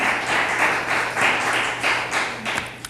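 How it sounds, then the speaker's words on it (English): At a Pacifica city council meeting, an audience breaks into steady, fairly loud applause with dense clapping that continues evenly for a few seconds before thinning out at the end. "I'm going to have to remind you to hold your applause, please"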